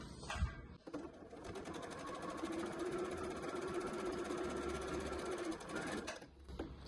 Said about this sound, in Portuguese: vou fazer essa costura retinha até chegar de lá